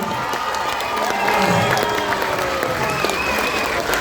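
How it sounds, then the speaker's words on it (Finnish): Steady applause from a crowd at a 30th birthday party, with some cheering and shouts mixed in, sustained and fairly loud throughout. "Annetaan aplodit"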